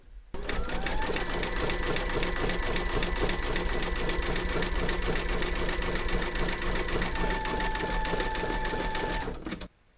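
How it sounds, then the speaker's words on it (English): An embroidery machine satin-stitches around a bunny's face in grey thread, a loud, fast, evenly pulsing needle chatter that runs steadily for about nine seconds and then stops abruptly. "Load your thread colour for the satin stitching around the face into your machine, and then stitch round number 17"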